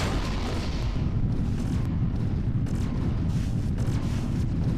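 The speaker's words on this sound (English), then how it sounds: "Dula 7's thermium reactor is 10 points past critical. She's ready to blow." A thermium reactor blowing apart a ship in Wing Commander: Prophecy, a sustained, deep rumbling roar of explosion that fills the whole stretch, dense and steady with low boom, heard alone without voices.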